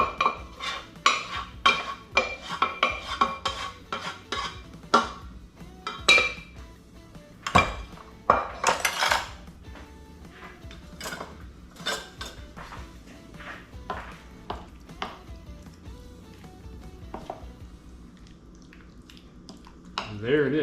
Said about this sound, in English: we're just gonna put our cream over there and mix it up